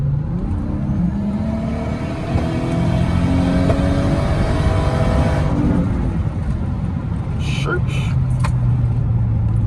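A Lexus GS300 fitted with a CX Racing turbo kit accelerating hard through the gears, its engine droning loud and steady from inside the car with a faint shift partway through, and someone talking over it.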